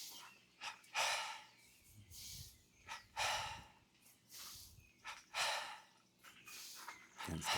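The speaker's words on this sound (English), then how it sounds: "Third and final round of double breathing Kriya." Forceful double-breath pranayama rounds from a Kriya energy practice: sharp, loud nasal inhale-exhale bursts repeat roughly every second or so, close and breathy, with no talking.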